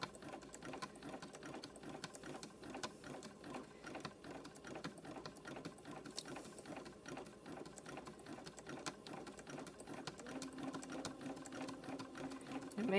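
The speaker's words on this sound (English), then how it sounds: "You're sewing the rope." A sewing machine zigzag-stitches through fabric-wrapped rope in a steady, rapid mechanical rhythm. It runs quietly and unbroken for several seconds, with no voices.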